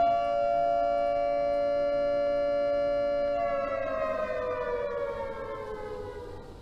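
A loud, sustained wailing siren in the horror video game Those Who Remain holds a steady tone, then slowly winds down in pitch and fades slightly.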